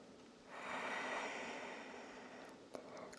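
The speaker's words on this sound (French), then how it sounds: "On va prendre quelques respirations ici" Slow, steady breathing during a beginner vinyasa yoga practice, one long airy exhale that swells and then fades, close and soft with no talking.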